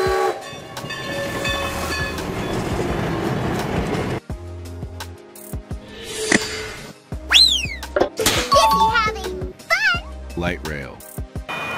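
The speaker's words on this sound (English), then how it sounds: "Steam locomotive. A historic train powered by steam." A steam-powered heritage train rumbles along the rails in a steady, loud chug before a break, then shrill whistle blasts and sharper mechanical sounds follow, with a voice speaking over much of it.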